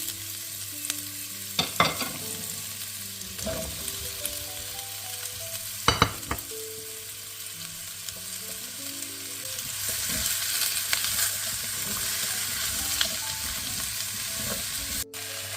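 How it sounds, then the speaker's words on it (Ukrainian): Carrot, potato, garlic and onion frying in butter and oil for chicken soup, a steady close sizzle with occasional sharp stirring clinks of a utensil against the pan. "І трішки потрібно все нам обсмажити."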